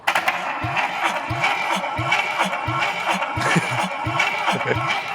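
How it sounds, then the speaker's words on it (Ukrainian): A car engine that sat unused for a long time cranks repeatedly on a weakening battery with a strained, rhythmic grinding whir, turning over again and again without catching, close and fairly loud. "мотор не хоче крутитися"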